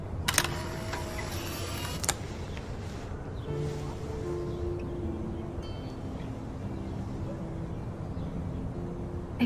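A camera shutter clicks twice in a video game, once sharply near the start and again about two seconds later, over a soft, steady ambient backdrop.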